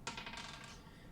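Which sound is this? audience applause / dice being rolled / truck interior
dice being rolled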